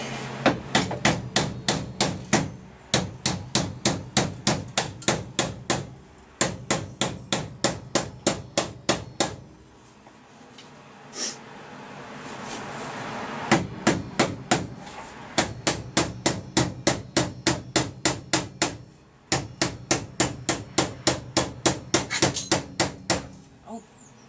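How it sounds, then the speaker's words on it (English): Rapid bursts of hammer blows ring out in fast, regular runs while working on a Mk3 Ford Cortina Estate, broken by short pauses with quieter background shuffling before the pounding resumes. "As soon as you get the hammer out, all your stuff likes to run away."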